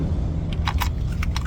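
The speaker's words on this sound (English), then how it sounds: "Taking out the keys" Keys jangle in several short metallic bursts while being taken out to remove the battery from a VTUVIA Zeal LT7 e-bike, over a steady low background rumble, with no talking.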